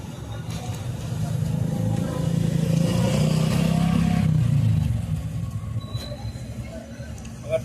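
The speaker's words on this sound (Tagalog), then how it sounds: "Baka tumakbo, may dadaan dyan mga motor." Motorcycles pass on a road, a low engine rumble swelling as they approach, peaking loud for a couple of seconds, then fading away, with faint background voices.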